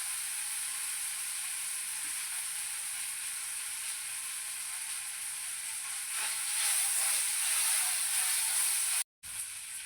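Green chillies and chopped curry leaves hit hot oil in a pan for vada pav. A loud, steady sizzle hisses close by and briefly swells stronger near the end, with no voices.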